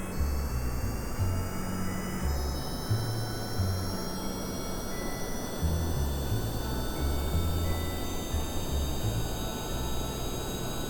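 An airplane engine in Kerbal Space Program drones steadily throughout, a continuous jet-like roar with a high whine that slowly shifts in pitch, with no speech.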